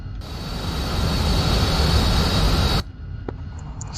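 A loud, steady engine roar and whine from an aircraft taking off from a runway in a military video game, close and constant for nearly three seconds, then cutting abruptly to quieter background noise.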